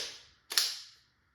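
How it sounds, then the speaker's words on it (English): A Tippmann TMC paintball marker fitted with a Delrin bolt and drilled valve fires a single sharp, close pop with a short fading tail, after a brief burst of air hiss. "All right, let's fire some rounds."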